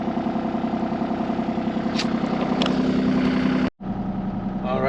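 An excavator engine runs while the machine is driven, with its bucket pin working loose. It makes a continuous, fairly loud, even mechanical drone that cuts out briefly near the end, then resumes, and no one talks.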